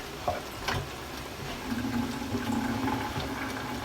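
Liquid draining from cooked ground beef as it is strained, a steady watery pour and splash that runs for several seconds with a low, continuous rush and no talk.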